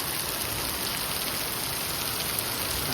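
Heavy rain pours down around a parked vehicle after Diwali, making a dense, even, unbroken hiss that stays loud and steady throughout without any pauses.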